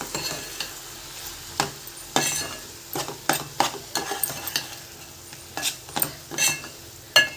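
Curry of dried shrimp and drumsticks being stirred in a pan, with repeated scraping strokes of a spoon and a soft sizzle underneath, close and moderately loud, no talking.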